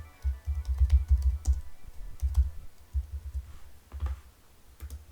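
Fingers typing on a computer keyboard: quick irregular key clicks and soft thuds in short runs, close and moderately quiet, without any voice.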